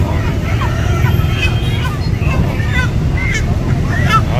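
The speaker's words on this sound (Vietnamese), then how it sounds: "Chị đang lùa mấy con gà này để cho nó nhảy tới nhảy lui" Chickens being driven to hop back and forth at a busy Saigon Tet fruit market, their squawks and flapping mixed into steady crowd babble and nearby chatter.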